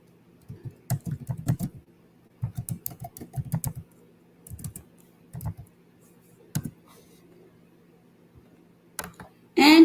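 Typing on a computer keyboard in short bursts of clicky keystrokes with pauses between them, close by, with faint background hum and a louder noise at the very end.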